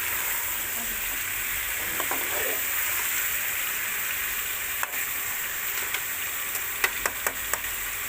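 Chicken pieces fry in a karahi for black pepper chicken karahi, a loud, steady close sizzle with a few light clicks of stirring on top.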